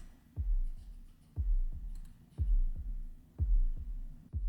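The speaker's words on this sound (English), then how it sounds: "I hear like a heartbeat sound." A heartbeat sound effect opening Pink Floyd's Speak to Me: deep, close thumping beats in steady paired lub-dub rhythm, four strong pulses alone with no talk.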